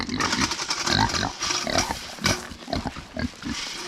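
Several Kunekune pigs grunt and squabble close by at a pasture during weaning day, a busy run of short overlapping grunts and squeals that continues steadily throughout.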